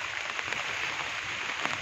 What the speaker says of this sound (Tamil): இங்கே பயங்கர மழையாக இருக்குது